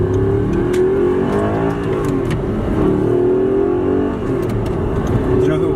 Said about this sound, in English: Should I just like drop the clutch right here?